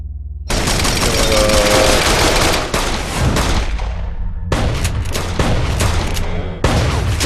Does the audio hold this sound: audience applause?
no